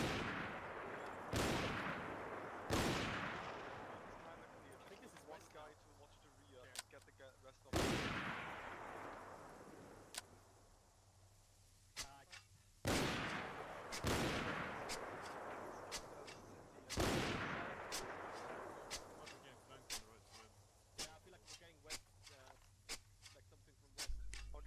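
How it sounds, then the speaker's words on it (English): Distant gunfire in the military game Arma 3: a string of sharp, separate reports, some single and some in quick pairs, each ringing out with a long echoing tail across open terrain. "Be advised, audible shots southwest."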